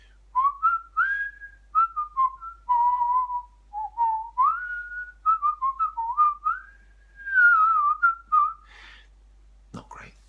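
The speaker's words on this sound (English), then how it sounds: "I'm just going to wait and I'm going to do some whistling." A person whistles a wandering, melodic tune in short phrases with brief gaps, close and clear over a quiet background, ending with a soft knock or clatter.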